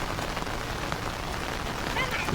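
Heavy monsoon rain pours on a farm field, a dense, even hiss of drops hitting surfaces close by, steady and loud through the whole short stretch.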